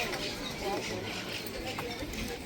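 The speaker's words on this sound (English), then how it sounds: "There's a pigeon." A pigeon coos softly outdoors in Barcelona, in faint low calls set against steady street and park noise, with a person talking nearby.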